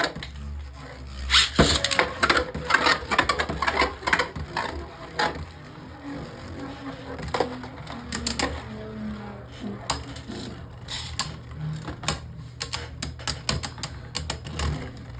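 Beyblade Burst tops launched into a stadium, with a burst of sharp clattering at the start and then repeated scattered metallic clicks and knocks as they collide and spin for several seconds, alone without talk.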